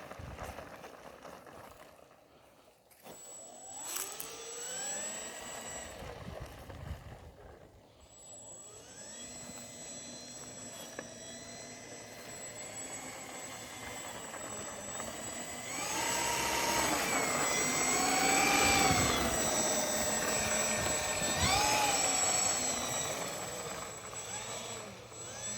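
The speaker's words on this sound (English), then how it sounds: "The twin engine just sounds so cool." A small twin-engine E-flite EC-1500 model airplane buzzing steadily as it taxis nearby, engines whining and rising in pitch, louder toward the end.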